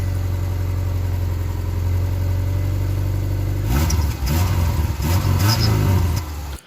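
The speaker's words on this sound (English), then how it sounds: "first car is a 2004 Forester with a muffler delete" The exhaust of a 2004 Subaru Forester with a muffler delete idles with a deep steady rumble, then revs in several sharp bursts before cutting off, loud and close.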